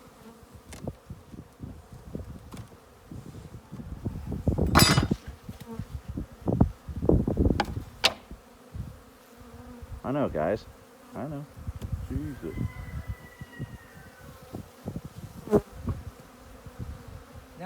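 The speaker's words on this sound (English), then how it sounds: "Bees are swarming the queen." Honey bees buzz steadily all around, a dense swarm close by around a caged queen, while a person speaks briefly and rustling sounds pass in bursts.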